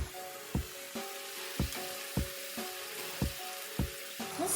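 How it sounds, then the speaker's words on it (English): Sweet potatoes sauté in a pan for an egg roll in a bowl: a soft sizzle runs under regular, evenly spaced scrapes or taps of a utensil, about two per second, close and moderately loud. "I'm gonna let this saute up now until the sweet potatoes are nice and tender."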